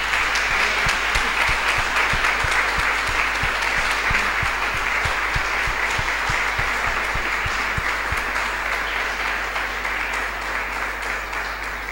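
Church congregation clapping together in sustained, steady applause, a dense wash of many hands filling the room with no break for the full stretch.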